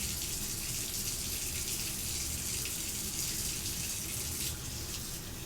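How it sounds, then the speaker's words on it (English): Water runs steadily from a kitchen tap while a dish is rinsed, a continuous close, even gush lasting throughout with no voices. "Let me rinse this one off yet again."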